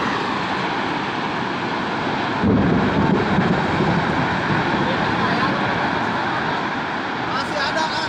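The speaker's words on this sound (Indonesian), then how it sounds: "Angin puting beliung di Kahatek." A tornado whirlwind on the border between Sumedang and Bandung roars as a continuous, heavy rush of wind with a deep rumbling undertone, growing louder and rougher partway through and staying constant after.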